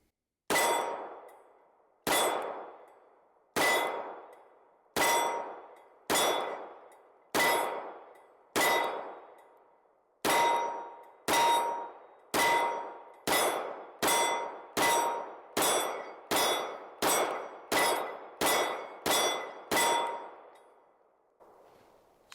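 LFA Apollo 11 Compact pistol firing at a steel target, about seventeen shots each ending in a bright ringing clang that decays, slowly spaced at first, then faster and steady.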